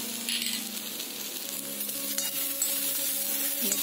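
Chopped purslane sizzles steadily in a hot pan after salt and turmeric powder go in, a continuous close frying hiss with faint stirring scrapes throughout.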